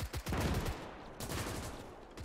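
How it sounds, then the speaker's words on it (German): Dense gunfire from the WWII strategy game Gates of Hell: Ostfront, with overlapping rifle cracks and machine-gun rattle in loud, continuous volleys that ease slightly partway through, no voices. "jetzt geraten die hier unter Beschuss"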